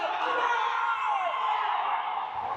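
A crowd at an under-14 youth ice hockey game between the Junior Flyers and Mount St. Charles reacts unhappily with a sustained, rumbling murmur of boos and yells, while a commentator talks over it.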